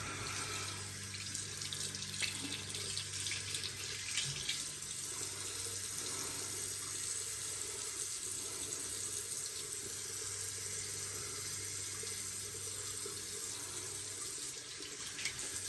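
Running water pours from a sink tap as a razor and face are rinsed during a wet shave. It is a steady, continuous hiss that stays close and even for the whole stretch, with no voices.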